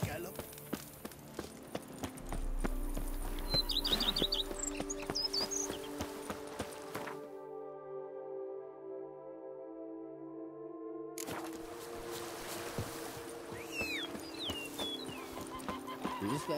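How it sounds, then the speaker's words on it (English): Horse galloping in The Witcher 3: Blood and Wine, rhythmic hoofbeats under game music and voices, briefly cut by a quiet musical pause before the galloping resumes. "you ride it at a constant gallop"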